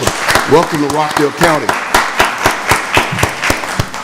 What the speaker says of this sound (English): Let's give her a round of applause for even being on board.